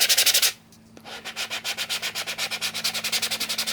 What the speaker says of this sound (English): Just lightly sanding that face.